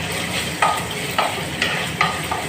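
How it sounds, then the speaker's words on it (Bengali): Grated ginger fries in a pan under a steady broadband sizzle, with a few sharper stir or scrape accents spaced through it. The cooking is close and moderately loud, and no one speaks. "আদাটা আমি গ্রেট করে একটু ভালো করে এটা ভেজে নেবো।"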